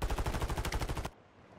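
A rapid, loud burst of automatic gunfire in Call of Duty Warzone on Rebirth Island, about a dozen evenly spaced shots that stop abruptly.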